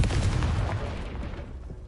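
A Confringo blasting-spell explosion in the Hogwarts Legacy video game gives a loud, dense boom that fades over about two seconds.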